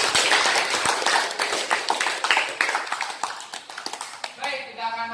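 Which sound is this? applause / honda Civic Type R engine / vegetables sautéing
applause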